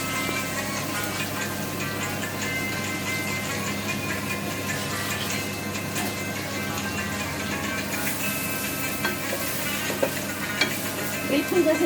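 Onions fry in a pan for a Kashmiri eggplant dish, producing a steady, close sizzle with occasional stirring scrapes throughout.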